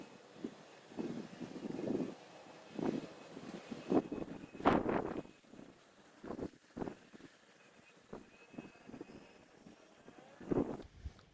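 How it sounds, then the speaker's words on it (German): Wind gusts buffet the microphone outdoors during pipe smoking, in irregular, rumbling bursts, rising and falling in strength throughout. "Ihr seht ja, es ist recht windig."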